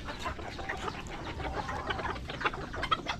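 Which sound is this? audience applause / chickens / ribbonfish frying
chickens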